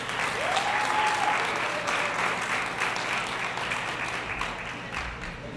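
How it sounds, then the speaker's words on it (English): Audience applause at a STEM program orientation, steady continuous clapping from a group at moderate distance, holding evenly for several seconds with a faint whistle-like tone briefly rising through it. "let's give a round of applause for Danny."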